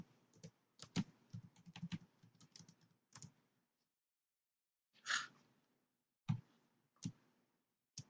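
Quiet, close-up computer keyboard typing as a password is entered: quick bursts of soft key clicks, a pause, then a few separate louder keystrokes, with no talk.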